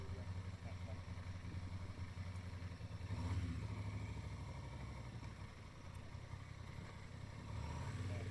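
A 2025 Honda Transalp 750 motorcycle engine idles steadily nearby with a low, even rumble and faint mechanical clatter, with no talking.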